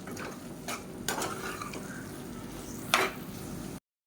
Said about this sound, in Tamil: இந்த ஸ்டேஜில் நம்ம வறுத்த பொடியே சேர்த்துக்கலாம் இது எல்லாத்தையுமே சேர்த்துக்கலாம் சேர்த்துட்டு நல்லா பரட்டி விட்டுக்கலாம்